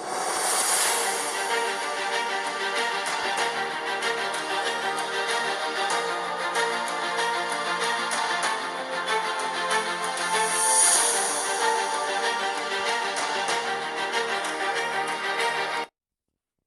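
Music plays through the built-in speakers of a Razer Blade 17 gaming laptop at 80% volume, full and fairly loud with a dense, steady mix for about sixteen seconds before stopping abruptly.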